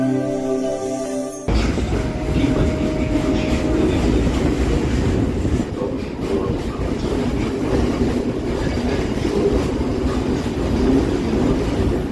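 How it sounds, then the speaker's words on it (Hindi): A train rolls through Majerhat railway station in Kolkata with a loud, continuous rumble and rhythmic wheel clatter close by, a brief tonal sound at the start before the steady rolling noise takes over. "अब हम लोग आ चुके हैं माजरहाट रेलवे स्टेशन"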